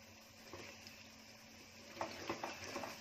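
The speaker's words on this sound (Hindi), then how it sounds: "इसको भी थोड़ा भूनूंगी 1 मिनट।" Spices for a red chicken curry with coconut milk fry over low heat in a pan, a faint steady sizzle with a few soft stirring scrapes near the end.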